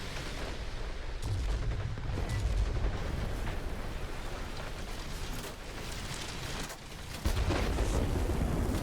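Anti-aircraft fire from ground emplacements in World of Warplanes, heard as dense, continuous rumbling bursts of gunfire with no talk over them, while a Tier VIII Russian Ilyushin IL-20 attack aircraft is under attack.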